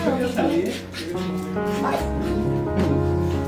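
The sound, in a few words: dogs barking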